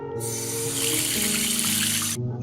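A bathroom tap runs in a steady, loud, close gush of water that starts abruptly, flows for about two seconds and then cuts off, with no voices.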